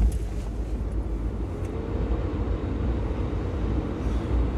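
Low rumbling drone of an old car with 100,000 miles driving along and running roughly, a steady dense engine and road noise heard from inside, with no clear break.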